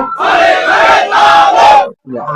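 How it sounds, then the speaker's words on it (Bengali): A large crowd at an outdoor Islamic religious sermon roars the Nara-e-Takbir chant in unison, two loud sustained shouted swells followed by a brief pause and the start of another cry. "আরো জোরে নারায়ে তাকবীর"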